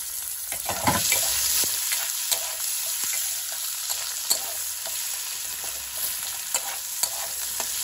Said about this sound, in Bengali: যেই শুকনো লঙ্কা তেজপাতাটা হয়ে গেল, আমি এর মধ্যে দিয়ে দিলাম পেঁয়াজ কুচি